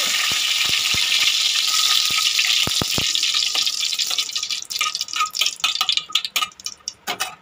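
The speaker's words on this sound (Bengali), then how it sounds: "গরম হয়ে গেছে তেলটা, এবার দুটো তেজপাতা দেবো।" Two bay leaves dropped into hot oil, a loud burst of sizzling that fades into scattered pops and crackles.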